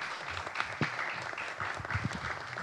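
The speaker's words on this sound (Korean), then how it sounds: "여러분 다시 한 번 더 박수 부탁드립니다." Steady audience applause fills a hall at an international drama and video forum, a dense, continuous patter of many hands clapping at moderate loudness.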